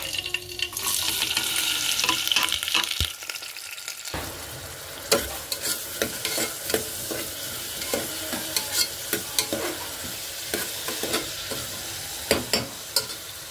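Chopped onion, green chilli and curry leaves crackle and sizzle as they fry in hot oil for a mutton and drumstick curry, with steady hiss broken by sharp spatter bursts and stirring clatter, close by with no talking.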